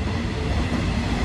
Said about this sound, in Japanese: 電車が通ってるんで